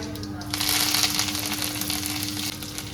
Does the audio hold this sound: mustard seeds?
yes